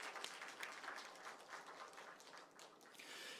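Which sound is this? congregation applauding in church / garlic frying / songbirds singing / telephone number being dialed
congregation applauding in church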